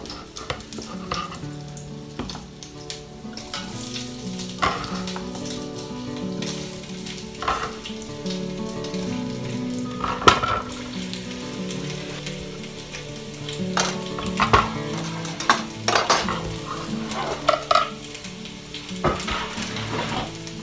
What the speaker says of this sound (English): Now we're going to add the potatoes.